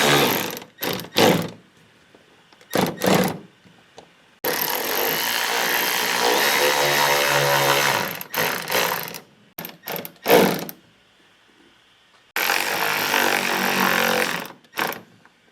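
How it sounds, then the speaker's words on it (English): Screws are driven to mount a Derale electric fan controller, a power driver whirring in short bursts and a few longer runs, separated by quiet pauses, close and fairly loud. "now I'm going to mount the Derale controller with the supplied screws"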